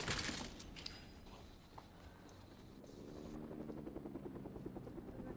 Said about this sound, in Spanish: Un helicóptero. ¿Lo escuchas, no?